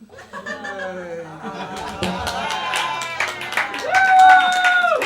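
Theatre audience at a comedy show laughing and clapping after a joke, a moderately loud burst of applause mixed with chuckles, with voices rising over it toward the end.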